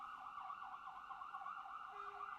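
An emergency vehicle siren sounds outdoors, a continuous wavering wail heard from a distance at low level, alone without speech.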